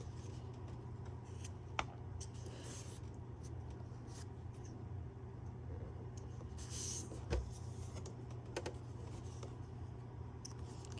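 Scissors trimming fabric for a farmhouse pot holder, a few quiet snips and rustles near the microphone over a low steady hum, with faint movement noises and no talking.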